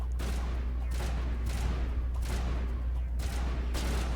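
Gunfire in Mass Effect pops out in repeated bursts at a roughly regular pace over a steady low background hum.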